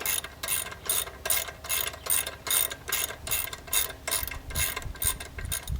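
Ratchet wrench backing out a 12 mm bolt on a Triumph Scrambler motorcycle's rear shock, a steady run of about a dozen crisp, close clicks in an even rhythm, heard alone.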